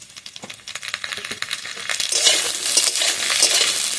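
Fried potatoes with ginger-garlic paste stirred in a pan, a steady sizzle building louder with scraping and clinking strokes, close and alone.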